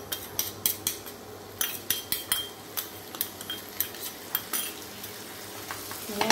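Mustard and chili paste sautéing in a pan for a prawn curry with spring onion, a steady low sizzle under repeated sharp metallic clinks and scrapes of a spoon stirring against the pan.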